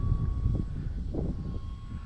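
RC Thunder three-cell model airplane flying overhead, a fluctuating motor whine drifting near and far against wind noise, with no talk.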